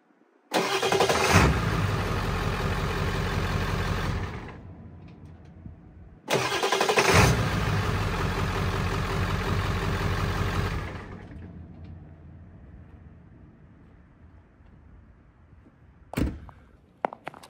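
A Ford 7.3L Powerstroke diesel truck engine cranks and fires twice in a row, each time roaring loudly to life and running steadily for several seconds before shutting off, followed by quieter rumbling and a few sharp thunks near the end.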